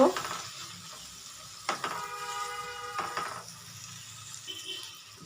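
A spice masala of tomato, chili flakes and cumin powder fries in a pan with a soft continuous sizzle, broken by two clear scraping stirs of a spoon, close and fairly quiet.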